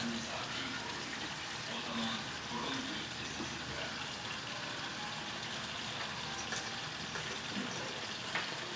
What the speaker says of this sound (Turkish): Şimdi yeteri kadar kettle'da ısıttığımız suyumuzu ilave ediyoruz.